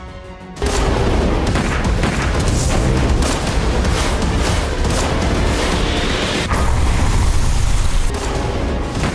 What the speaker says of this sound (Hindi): समंदर में सबमरीन से धमाका